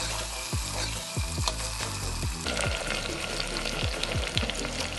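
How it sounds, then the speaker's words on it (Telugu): Carrot, potatoes and onions frying in a pan for masala rice, a steady close sizzle with repeated stirring scrapes and clinks, no talking. "క్యారెట్ కొంచెం బాగా వేగిన తర్వాత బంగాళదుంపలు వేసుకొని ఆనియన్స్ వేసుకొని ఫ్రై చేసుకొని"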